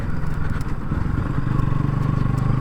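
A running motorcycle with a fault that makes it stall when shifted into neutral, its engine idling with a steady, close, low rumble and a slightly uneven pulse, no voices.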